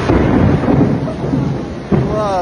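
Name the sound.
thunderstorm with heavy downpour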